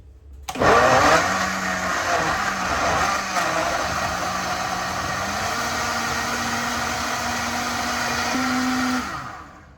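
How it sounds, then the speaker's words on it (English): A blender whirs loudly and steadily for several seconds, its motor pitch shifting slightly as it churns, then winds down. "And then we're gonna blend this all up in the blender."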